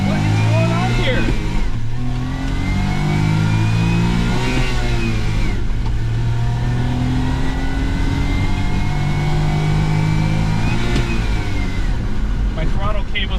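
A Suzuki Carry mini truck engine with a slightly sticky throttle cable revs and accelerates hard, a loud continuous drone whose pitch sweeps up and down throughout, with someone speaking over it.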